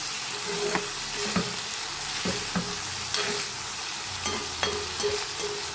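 Bitter gourd frying in a pan gives a close, continuous sizzle, broken by regular stirring scrapes and clicks of a spatula roughly every second, with no talking.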